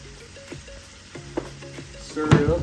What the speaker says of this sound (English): Stir it up pretty good,